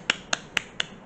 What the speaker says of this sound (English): I'm going to give myself a clap.